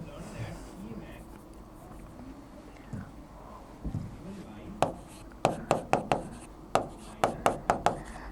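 Marker or chalk strokes on a classroom board writing a CH3 group: a series of sharp, rhythmic taps and scrapes in quick bursts, close and fairly loud, following quieter rustling with faint room noise underneath.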